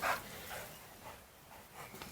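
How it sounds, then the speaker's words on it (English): Dogs playing outdoors at a plant nursery, a short yelp followed by faint, scattered yips and scuffling over a soft background hum, fairly distant with no talking. "And these are the dogs playing."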